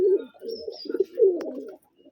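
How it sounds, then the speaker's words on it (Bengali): Two Rajshahi gereba pigeons coo close by in low, throaty, rolling phrases, several coos following one another before a short pause. "এইবার আমরা দেখবো দুইটা কবুতর"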